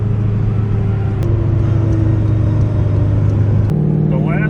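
A 2000 Pontiac Trans Am V8 with an SLP muffler, SLP lid and bigger throttle body drones loudly and steadily on a dyno, its pitch shifting as the revs change midway.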